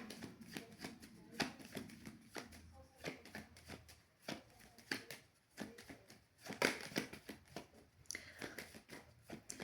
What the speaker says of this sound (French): Je vais te tirer une autre carte.